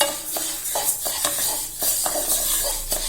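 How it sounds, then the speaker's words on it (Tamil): Raw rice dry-roasting to golden in a pan for Thiruvathirai kali, stirred with a spoon that scrapes and rattles the grains in quick, regular strokes, loud and close. "பச்சரிசி பார்த்தீங்கன்னா நல்லா பொன்னிறமாக வறுக்கணும்."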